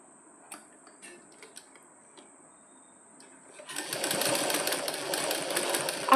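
A sewing machine stitches a tuck frill on fabric, starting after a few seconds of quiet scattered clicks and then running loud and steady with a continuous whirring drone to the end.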